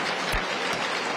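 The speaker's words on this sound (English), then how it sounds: "Let's give them a round of applause." Audience applauding at a masterclass event on the life and legacy of Sir Lynden Pindling, a brief burst of steady, dense clapping.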